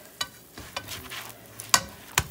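Chicken and steak quesadilla frying in a pan, with a few short scraping and sizzling bursts as it is handled and flipped, fairly quiet and close, with no talk.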